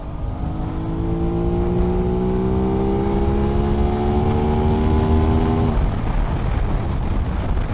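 A 2021 Aprilia RS660 motorcycle engine revs up hard while riding, its pitch climbing steadily toward 11,000 RPM before easing off, all under a constant loud rush of wind.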